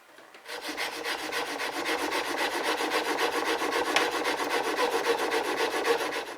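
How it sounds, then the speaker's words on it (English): A woodworking chisel is honed on fine sandpaper to put a micro bevel on its edge, heard as a steady, close, rhythmic rasping rub that runs back and forth without pause for several seconds. "I'm working on some fine paper now to produce a little micro bevel on the front."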